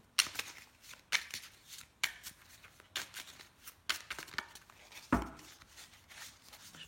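Tarot cards shuffled by hand close up, a series of crisp riffling bursts about once a second with brief pauses between, no voices.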